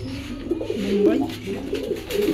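Pigeons in a home loft, including magpie and Bombay breeds, cooing close by in soft, overlapping rounded coos that run steadily throughout.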